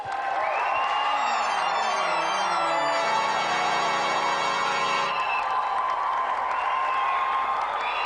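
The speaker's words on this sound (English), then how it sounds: "Round of applause for Doug, everyone" A TV game show studio audience applauds and cheers for a contestant who has just failed a challenge, steady clapping under bright electronic musical tones and sweeping synth sounds.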